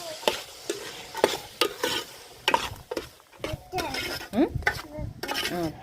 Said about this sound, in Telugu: వేసిన తర్వాత ఇట్లా కలుపుకుందాము